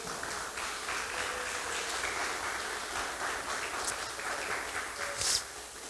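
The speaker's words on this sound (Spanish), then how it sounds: "¿Cuántos pueden aplaudir el nombre del Señor?" Church congregation clapping during a Spanish-language sermon, a steady, moderately faint wash of many hands applauding throughout with a few sharper claps near the end.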